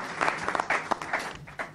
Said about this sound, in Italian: Un applauso non guasterebbe